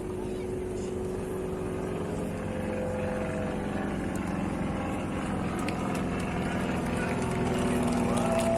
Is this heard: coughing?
no